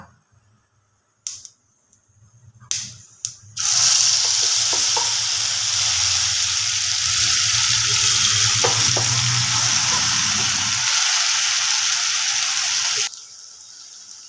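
Onion paste for a dhaba-style egg curry hits the pan, and after a few clicks and knocks a loud, steady sizzle takes over and runs for about ten seconds before cutting off.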